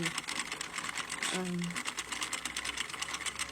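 A Sentro plastic knitting machine is cranked steadily through rows for a beanie, giving a fast, even clicking rattle that runs throughout, with a brief tonal sound near the middle.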